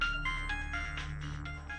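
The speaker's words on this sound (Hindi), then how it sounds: "अरे लड़की का बड़ा फोन आ रहा है तुम्हारे मोबाइल पे।" An electronic melodic ringtone from an incoming mobile phone call plays as a sequence of bright tonal notes over a low background hum, fairly faint and continuous.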